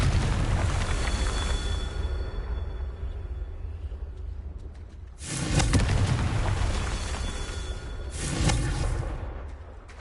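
Confringo blasting spell explosions in Hogwarts Legacy on PS5, two loud booming bursts a few seconds apart, each swelling then fading over a steady rumbling game backdrop.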